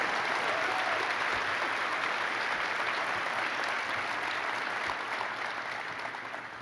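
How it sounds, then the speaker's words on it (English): Dense, sustained applause fills a hall at the 2014 Long Beach State of the City address for the city's firefighters, a steady roar of clapping that slowly tapers. "So please join me in a round of applause."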